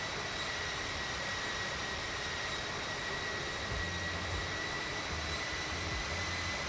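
Aircraft engine in a flight simulator game during a Madrid fly-in event, heard as a steady, even drone with a faint high whine as the plane climbs, unbroken and alone with no talking.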